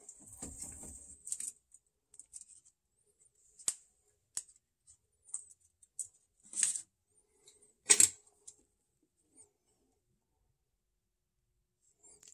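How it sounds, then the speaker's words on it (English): Snips from trimming excess solder off a wire on a Heathkit IM-5228 VTVM probe during assembly: a handful of sharp, separate clicks and cuts scattered over a quiet bench, close and fairly faint, with one louder snap near the end. "I'm going to dab a little bit of solder in there, and then we'll trim it off"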